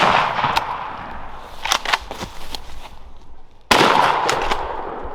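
A shotgun is fired at a wild turkey gobbler on Indiana public land. One abrupt, loud blast breaks through quieter outdoor rustling about two thirds of the way in, heard close to the shooter.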